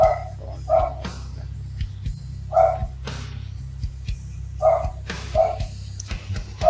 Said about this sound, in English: And you've got a dog barking in the background.